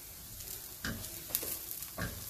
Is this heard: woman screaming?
no